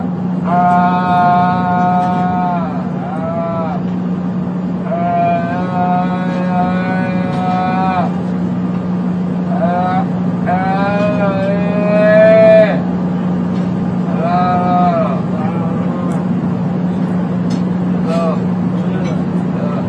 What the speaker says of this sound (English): That's your voice making those moaning sounds. Sound like an animal in pain, right